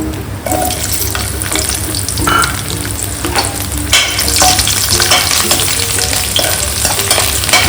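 Peeled garlic cloves frying in a pan of hot oil while being stirred, a steady close sizzle running throughout with scraping stir sounds and no talk.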